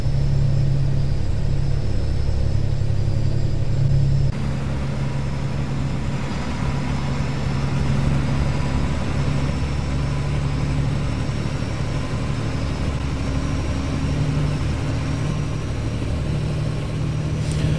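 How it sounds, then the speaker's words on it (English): A truck's engine brake in American Truck Simulator, hauling a Lode King trailer on a highway, makes a loud, steady low rumble that holds throughout, easing slightly in level after a few seconds. "I gotta be honest, the engine brake doesn't really match the engine"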